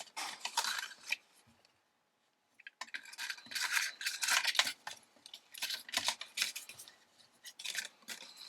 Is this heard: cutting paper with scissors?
yes